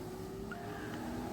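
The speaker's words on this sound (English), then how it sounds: "So please excuse the traffic." Steady traffic noise rolls past outdoors, a low continuous rumble of cars with a faint tyre hiss, moderately quiet and uninterrupted, with no voices.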